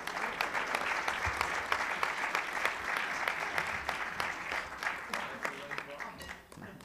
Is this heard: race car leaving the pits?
no